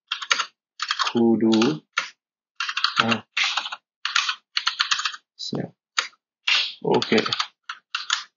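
Rapid keystrokes on a computer keyboard while entering test text into an Azure Kudu web editor, clicky taps in quick uneven bursts with short pauses, close and clear, someone briefly speaking between them.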